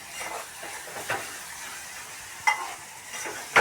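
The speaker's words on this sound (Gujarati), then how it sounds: "જો દાળ વઘારવાનું શરૂ છે અહીંયા" Dal being tempered with onion in hot oil over a village clay stove, giving a steady soft sizzle with occasional sharp spoon scrapes and clinks against the pot.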